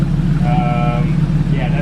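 A BMW G80 M3 with a Sharkworks X-pipe, muffler delete and bypass pipes rumbles loudly and steadily nearby at idle, its deep exhaust drone running under people talking.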